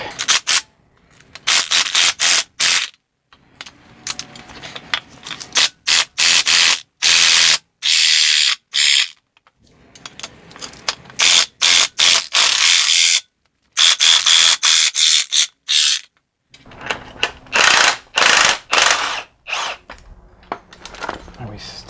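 Ratchet working loose the front strut bolts on a BMW E46 330i/325i, bursts of rapid loud clicking in repeated choppy runs across twenty seconds, with pauses between strokes and occasional speech.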